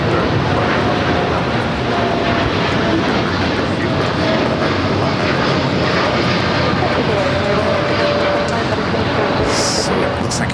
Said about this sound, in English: We also have an Air Canada Dreamliner taking off here on the south side